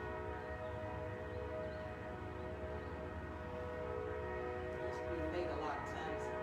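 A train's continuous rumble fills the background outdoors with a drawn-out horn tone, steady and fairly distant, with brief scraping sounds near the end.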